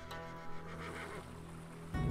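In the Battle Realms video game, a horse gives a long, clear neigh. The whinny rises and falls over a faint watery background, ending with a low thump.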